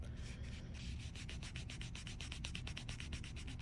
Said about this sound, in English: now we're going to smooth the nail